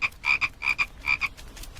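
A frog croaks in short, close, rhythmic bursts, roughly four quick raspy pulses in under two seconds, alone against a quiet background.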